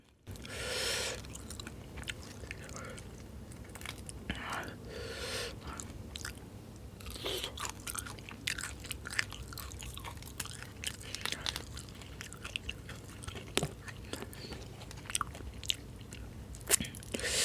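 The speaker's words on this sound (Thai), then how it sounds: "ผมกัดไปทั้งเปลือกเลย" Shell-on shrimp bitten and chewed along with spicy instant noodles, close and crisp, with repeated crunchy bites and wet chewing spread steadily throughout.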